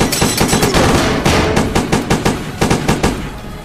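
Rapid machine-gun bursts from a modded shooter game, loud and close, firing in repeated stuttering volleys with brief gaps between bursts.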